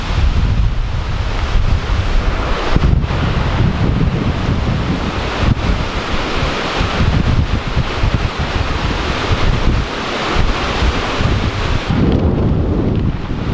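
Strong, gusting wind from Tropical Storm Zeta roars across an open small farm, buffeting the microphone in a loud, continuous rush with surges and brief lulls, and no voices.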